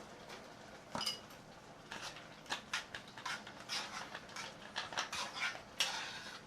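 A metal pan set down on a stovetop while cooking jambalaya penne, with a sharp clank followed by a run of lighter clinks and rattles of cookware, close and fairly quiet, no voices.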